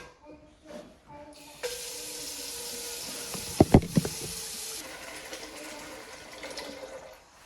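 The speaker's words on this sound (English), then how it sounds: "now I'm going to be putting inside some water in the pot" Water pours steadily into a pot for a few seconds, with a couple of sharp clanks in the middle of the stream.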